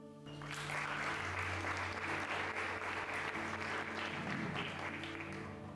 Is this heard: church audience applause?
yes